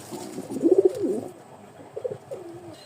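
Pigeons, male and female birds held for sale, give a few soft close coos in quick rolling pulses, then quieter cooing follows over a low background.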